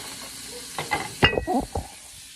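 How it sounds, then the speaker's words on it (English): Shrimp, sausage and vegetables hit a hot skillet and sizzle in a few short, sharp bursts, close by. "Hear the sizzle."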